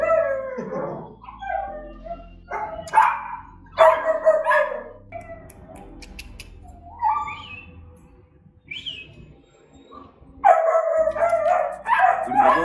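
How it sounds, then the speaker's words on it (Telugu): A beagle in a pet store lets out loud, drawn-out baying howls and barks in several bursts, with brief quiet gaps between them. "దీని బ్రీడ్ పేరు ఏంటంటే బీగల్."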